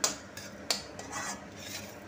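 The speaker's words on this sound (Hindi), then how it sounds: "और इधर सूजी तो मेरी भुनी रही है" Semolina being dry-roasted in a pan is stirred with a metal spoon, giving soft scraping and sizzling sounds punctuated by a few sharp clinks against the pan.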